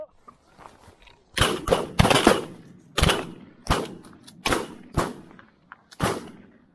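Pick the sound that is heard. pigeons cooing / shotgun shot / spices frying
shotgun shot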